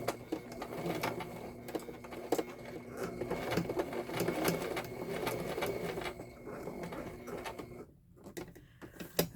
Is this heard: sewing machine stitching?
yes